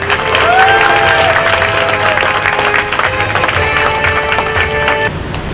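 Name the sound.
applause and cheers welcoming union leaders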